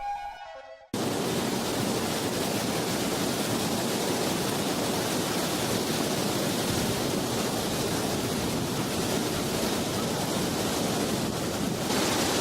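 Mabudil waterfall in the Philippines, with cold water pouring down as a loud, constant, broadband roar that starts abruptly after a brief cut at the opening and holds steady and close throughout.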